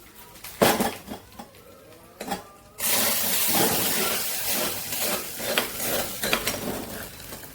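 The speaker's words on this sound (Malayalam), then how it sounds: "ഇനി ആ തിളച്ച കറിയിലേക്ക് ഈ കടുക് താളിച്ചത് ഒഴിച്ചു കൊടുക്കുക." A few metallic clinks of a ladle against a pot come first, then hot mustard-seed tempering hits a boiling curry of amaranth stems, jackfruit seeds and lentils, bursting into a loud sustained sizzle with crackles.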